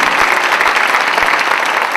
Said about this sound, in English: I have to give him a round of applause.